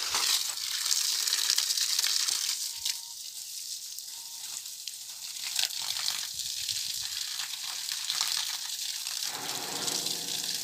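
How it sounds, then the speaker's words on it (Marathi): Borewell water gushes and splashes steadily onto flowering plants being irrigated, a continuous hissing flow at moderate distance with slight changes in intensity. "तर आता इकडे समोरच्या झाडाला पाणी सोडतो फुलांच्या"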